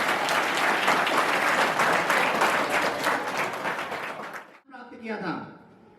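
Loud, sustained applause from a crowd at a Teachers' Day award ceremony fills most of the clip, then fades out as a voice begins speaking at the end.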